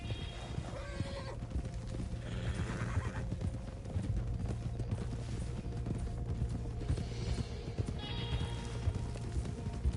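Horses at a video game ranch neigh and whinny while hooves clip-clop nearby, with a low mechanical hum under the steady, fairly quiet animal sounds.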